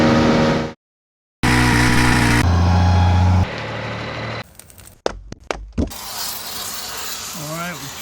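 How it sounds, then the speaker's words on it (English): Farm jack cranked on an excavator track frame: clicking ratchet-and-pawl strokes and metallic knocks, broken by a silent gap, then a series of sharp close clanks over background workshop noise. "We've got a farmer's jack trying to crank it down"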